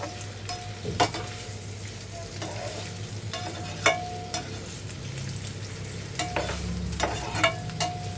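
Onions cook in hot oil in a pan for a village-style spicy moth bean dish, giving a steady broadband sizzle with a low hum beneath and several sharp scrape and clink accents from stirring, no voices.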